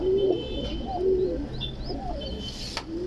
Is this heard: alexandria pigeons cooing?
yes